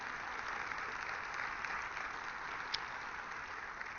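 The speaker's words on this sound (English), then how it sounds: "Please give Vivek a huge round of applause, and we thank him for being here today." Steady applause from a large crowd, continuous and even throughout, with no voices standing out.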